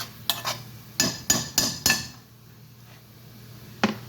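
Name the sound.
mung beans being stirred and sautéed in oil in a pan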